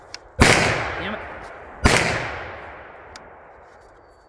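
Two sharp gunshots from a rifle fitted with a new muzzle brake at an outdoor shooting range, about 1.5 seconds apart, each loud and close with a long echoing decay.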